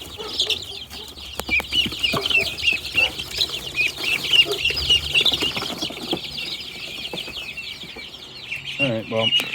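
A young chicken of unknown breed clucks and chirps in a rapid, continuous stream of close, high-pitched calls, with a few wing flutters and a lower call near the end.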